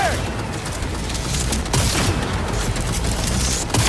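Sustained gunfire from the video game Cyberpunk 2077 Phantom Liberty, a dense rattling fusillade with bursts running throughout, loud and close amid noisy combat.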